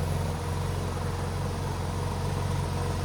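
A 2019 Porsche 911 GT3 RS with a mid-muffler delete and custom bent exhaust idles with its valves closed, giving a steady, even low rumble with no changes and no talk.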